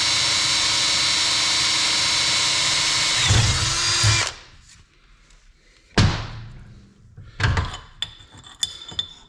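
A drill press with a quarter-inch bit bores a hole in a metal driveshaft sensor bracket for a Chevy 10-bolt rear. It gives a loud, steady whine for about four seconds, then spins down, followed by several sharp clunks and thumps.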